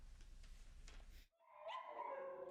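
A small, feisty Chihuahua mix dog at an animal shelter, with a low rumbling stretch followed by a brief gap, then high, tonal whimpers and yips rising close and clear.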